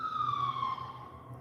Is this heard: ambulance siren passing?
yes